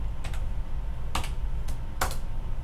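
Key presses on a Bystronic Xpert press brake controller keypad entering an angle correction: a few sharp separate clicks, then a small double tap and two more, near and crisp over a steady low machine hum.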